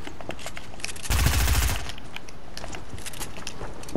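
Rapid SMG gunfire in a first-person shooter game, a loud dense burst of about a second standing out above a busy bed of game noise and clicks.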